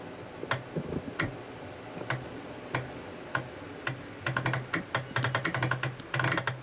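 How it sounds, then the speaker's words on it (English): Chopped percussion slices fire from MIDI in an ESX24 sampler, sparse clicky ticks and knocks that build into quick dense ratcheting bursts, mid-level and close over a faint background hum. "quite a nice little bit of individual percussion"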